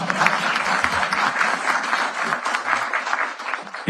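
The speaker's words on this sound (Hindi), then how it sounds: "इस पर तो ताली तो बजनी ही चाहिए" Audience applause at an iDEX defence innovation event, a dense, steady burst of many hands clapping that fills nearly four seconds at close range with no speech over it.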